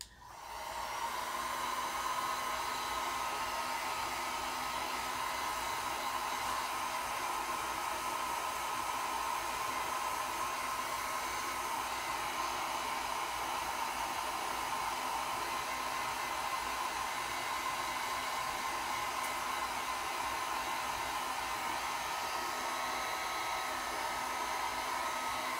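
A handheld hair dryer blows continuously to dry freshly applied metallic acrylic paint on a black canvas, a loud, steady whirring hiss that starts abruptly and holds unchanged for the whole stretch, with no talking.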